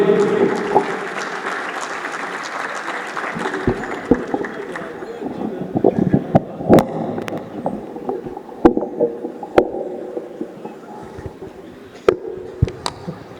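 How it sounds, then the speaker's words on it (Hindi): Applause welcoming a poet at a Hindi-Urdu kavi sammelan at IIT BHU's Kashi Yatra festival, starting as a dense roar that thins into scattered, sharp individual claps with murmuring voices around it. "ज़ोरदार तालियों से इस्तकबाल करें जनाबे दान बहादुर सिंह"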